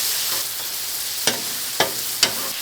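Hibachi chicken simmering in a reducing sauce on a hot griddle, a steady close sizzle with bubbling at the edges, broken by three sharp scraping stir strokes near the end.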